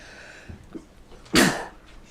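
A single sharp sneeze bursts out during a village board meeting, preceded by a couple of faint breaths or small throat sounds in an otherwise quiet room.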